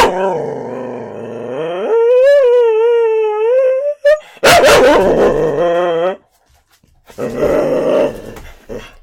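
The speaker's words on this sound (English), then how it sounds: "I apologize for the dog noises in this episode." Dogs howl and whine in long rising tones, then break into a loud, close burst of barking and growling before a final rough yelping stretch.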